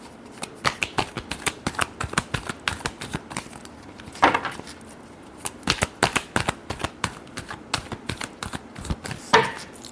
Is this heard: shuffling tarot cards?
yes